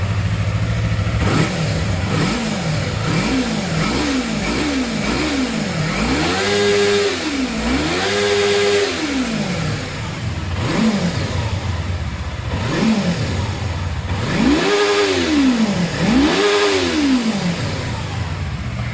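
A 2016 Yamaha R3 motorcycle engine idles close up and is blipped repeatedly, with several sharp revs rising and falling in quick bursts and then two longer, higher revs, all with no talking.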